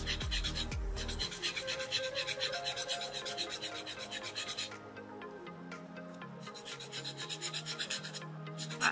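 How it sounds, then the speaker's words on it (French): A gel nail is filed with rapid, steady back-and-forth rasping strokes, close and crisp, pausing briefly midway before the filing resumes. "Donc je lime."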